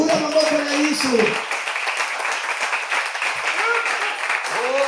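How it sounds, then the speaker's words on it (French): A church congregation bursts into applause and cheering, a dense wash of clapping and voices that swells after a preacher speaks over a background hum. "Acclame pour Jésus"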